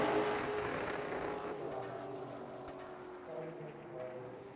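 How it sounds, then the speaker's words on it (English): A late model race car winds up on the bottom of an oval racetrack, a sustained broadband engine roar holding steady across the clip with a slight fade partway through, steady and fairly close with no talk over it. "really trying to wind up this race car on the bottom of the racetrack"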